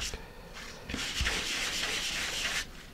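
Wooden rocket fins being sanded with 220 grit sandpaper give a close, breathy scratching rub, with a short light stroke followed by a longer, steadier pass.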